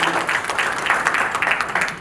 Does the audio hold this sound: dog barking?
no